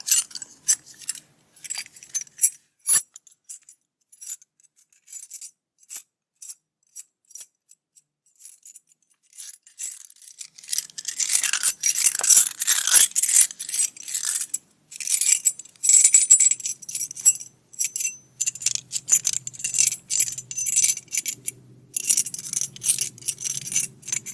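Metal keys jangle and clink close by in an ASMR setting, sparse light jingles at first, then a denser, louder stretch of shaking and rattling, with a faint low hum entering later.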